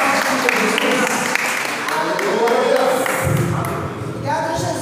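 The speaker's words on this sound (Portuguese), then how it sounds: "Você pode dar uma linda salva de palmas para glorificar, exaltar e bendizer o nome de Jesus." Applause from a church congregation at a healing and deliverance service swells into a sustained wash of clapping that fills the room, loud and dense, shifting slightly in texture near the end.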